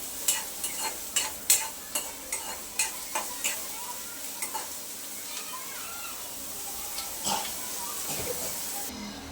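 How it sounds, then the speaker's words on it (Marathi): Sliced onion sizzles softly in a pan while a utensil scrapes and taps through it in quick, irregular strokes, then the stirring stops and a low steady frying hiss remains. "कांदा गुलाबी रंगावर फ्राय करून घ्यायचा आहे"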